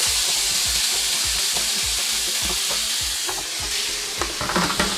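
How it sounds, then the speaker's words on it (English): Ground beef hits a very hot, smoking pan and fries loudly, a dense continuous sizzle close up with rhythmic spatula pressing and scraping for a chopped cheese sandwich, no voices. "so I'm going to just put all my beef."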